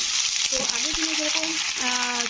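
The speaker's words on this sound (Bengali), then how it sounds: "এখন এই যে রান্নাটা করছি না কাঁচকলা ভাজছি" Green plantain fries in a pan with a constant bright hissing sizzle, close and even throughout, while faint voices murmur in the background.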